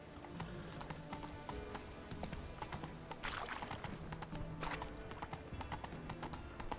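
Steady clip-clop of horse hooves at a walking rhythm in The Witcher 3, with a short whinny partway through, fairly quiet and close.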